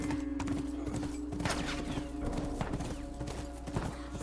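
Rapid rhythmic horse hoof clip-clops in the video game The Last of Us, steady and fairly close, over a constant background hum, with no talk.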